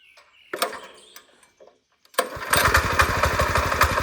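A newly bought farm tractor engine starts after a few scattered knocks, then settles into a loud, steady, rapidly pulsing run that continues to the end.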